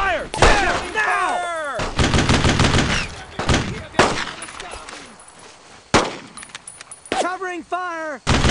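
Gunfire in the WWII shooter Brothers in Arms: Road to Hill 30: repeated loud bursts of rifle and machine-gun fire with sharp, ringing reports, separated by short gaps and overlapped by shouted voices.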